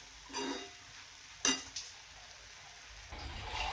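Okra (bhindi) frying in a pan sizzles softly while it is stirred, with a couple of sharp utensil clinks against the pan. The sizzle sits close and fairly quiet, and no one talks.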